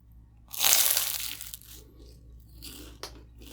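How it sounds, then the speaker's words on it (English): Biting into a spinach and feta cheese empanada with a flaky crust gives a loud close crunch, followed by softer crackling and chewing. No one speaks. "let's try this is the spinach and feta cheese empanada."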